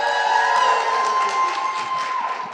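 A crowd of young people at a county convention stage presentation screams and cheers for Waxahachie, a sustained high shrill roar with several piercing voices rising above it.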